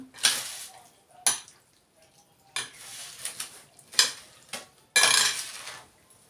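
A spoon stirs a chickpea mixture for a Turkish nohut tava, giving repeated scraping, clattering strokes against the pan in irregular bursts, close and fairly loud, with a faint sizzle in between.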